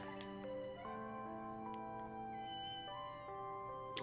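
Cat meowing in the Ghost Trick: Phantom Detective game, a few short tonal mews over a bed of sustained game music with bright chime-like notes.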